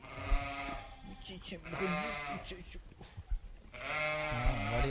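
Sheep bleat repeatedly inside a barn where ewes are being scanned by ultrasound, several loud, wavering calls overlapping one another while someone talks through most of the stretch.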